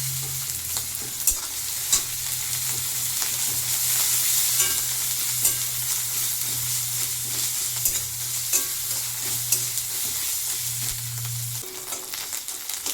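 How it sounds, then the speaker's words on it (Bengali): Chopped onions, ginger, garlic and green chilli fry in oil in a pan for a pabda fish curry, a continuous close sizzle with scraping stirs and occasional clinks, and no talking. "আমার এই আদা রসুন পেঁয়াজ কাঁচা লঙ্কা একটু ভাজা ভাজা হয়ে গেছে"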